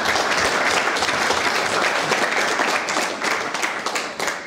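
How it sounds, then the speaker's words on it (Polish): Audience applause for a sports team's coach at a club's pre-season team presentation, a dense, steady wash of many hands clapping throughout, loud and continuous, tapering slightly at the end. "poproszę o wielkie brawa dla trenera Arkadiusza Rusina."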